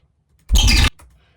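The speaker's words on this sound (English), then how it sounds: "use the free rate to create this nice curve that has this cool like fall down effect." A single short synthesized sample with a falling pitch curve from a free-running rate modulation, about half a second long, loud and alone, with a faint tail of the same sound after it.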